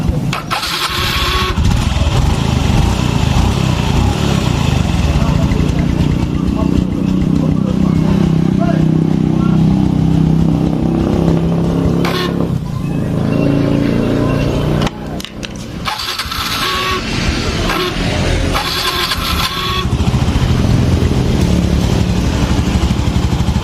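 A motorcycle engine idles steadily up close, with the throttle blipped into short revs, while someone talks over it almost throughout.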